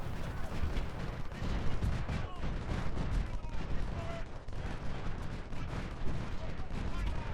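Booms and crackles of artillery fire from the Civil War strategy game Ultimate General roll on continuously, dense and rumbling like a distant battle, with a voice talking faintly underneath.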